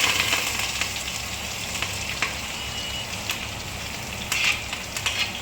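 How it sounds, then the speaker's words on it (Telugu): Onions, green chilies and curry leaves fry in a pan with a steady close sizzle and crackle, joined by occasional stirring scrapes, with no talking. "ఇప్పుడు ఉల్లిపాయ, పచ్చిమిరపకాయ, కరివేపాకు 3 వేసేస్తున్నాం."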